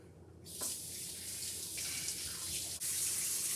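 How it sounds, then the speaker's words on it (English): Kitchen tap water starts suddenly and runs steadily into a sink during hand washing, a close, continuous hissing splash with a brief interruption near the end. "now, wash my hands one more time"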